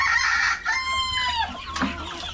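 Chickens cluck and squawk close by, with a short crow-like call drawn out in the middle, a brief lively burst of farmyard fowl.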